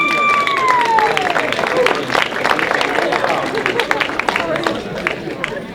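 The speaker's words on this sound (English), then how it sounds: "Give yourselves a round of applause!" A hypnotist show audience at a chiropractic college claps and cheers for themselves, a loud burst that gradually thins, with scattered voices and chatter mixed in.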